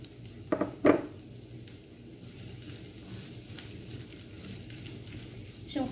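Chopped onion hits hot olive oil in a pan, opening with a couple of loud clatters and a burst of sizzling, then settling into a steady, moderate crackling fry close by.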